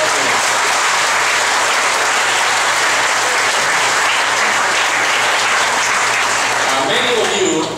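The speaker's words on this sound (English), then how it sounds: "Let's clap our hands and give him a ten of hands" A concert audience at a gospel choir's anniversary show claps loudly and steadily, a dense, sustained wash of hands that fills the room without a break, with faint voices underneath.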